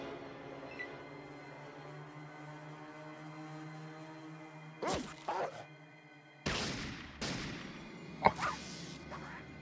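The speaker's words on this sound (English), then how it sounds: "Why did you shoot her in the back" Gunfire in the video game Fallout, a few sharp cracks and thwacks breaking a quiet droning background, arriving in separate bursts with one especially loud shot near the end.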